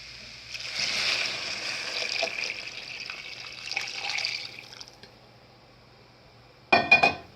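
Previously boiled water pours into a pot of barley and rice soup, a steady watery rush for about four seconds before it stops. A brief clatter follows near the end.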